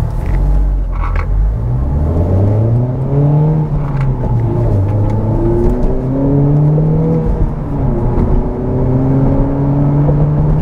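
A 2021 Honda Civic Type R hot hatch being driven, its engine droning steadily with rising and falling revs under a constant road rumble, heard from inside the cabin with no talking.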